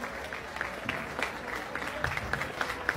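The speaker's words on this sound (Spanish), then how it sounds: "Que se escuchen nuevamente los aplausos" Applause from guests during a father-daughter dance at a quinceañera, moderate scattered clapping with a few sharper claps over a murmuring crowd and background noise.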